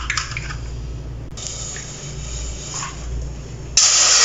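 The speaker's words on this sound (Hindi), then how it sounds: "2 कप पानी डाल लिया" Water is poured into a pan to start sugar syrup for gulab jamun, a steady splashing hiss running close and fairly loud, with a sharper burst of spray near the end.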